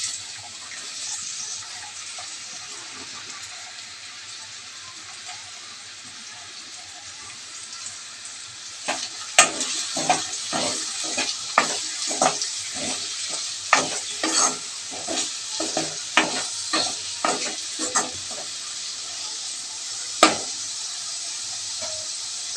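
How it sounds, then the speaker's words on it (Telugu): Onions and green chillies fry in hot oil with a steady sizzle. Partway through, a run of rhythmic scraping stir strokes and clatters joins it, and there is no talk. "అదే ముగ్గుట్లో ఉల్లిపాయలు, పచ్చిమిరపకాయలు కూడా వేపుకుందామండి"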